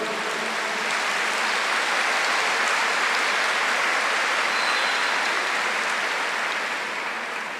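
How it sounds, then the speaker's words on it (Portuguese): A large crowd applauds steadily and densely, a continuous wash of clapping held at an even level from start to finish with no voices over it. "Pode aplaudir."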